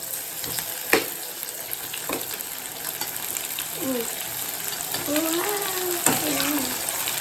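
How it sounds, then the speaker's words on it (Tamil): Tomatoes sizzle steadily in a hot pan for a Chettinad-style drumstick stir-fry, with occasional clicks and scrapes of stirring and a faint voice in the background. "அதையும் உள்ளே சேர்த்து நல்லா வதக்க வேண்டியதான்"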